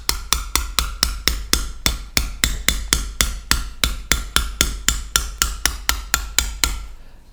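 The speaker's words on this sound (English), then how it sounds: "This is a technique called chasing." Metal chisel struck repeatedly with a mallet while chasing a deep internal curve with a gouge, about twenty sharp, evenly spaced knocks, close and loud, then a short fading ring at the end.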